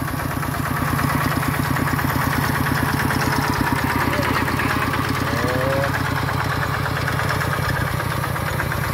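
An engine-driven water pump drawing water from a canal chugs steadily and loudly nearby, a constant rhythmic idle running the whole time while people talk under and over it.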